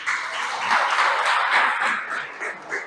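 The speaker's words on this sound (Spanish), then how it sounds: "Un aplauso para ellos." Applause from an audience for performers at a church gathering, a sustained wash of clapping hands that stays steady and then thins toward the end, with no talk.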